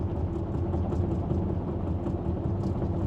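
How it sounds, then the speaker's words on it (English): Steady low rumble and broadband road roar from a rough, coarse road surface heard from inside a BMW iX cruising at around 60, continuous and even throughout with no talking. "Listen to this road, it's dreadful."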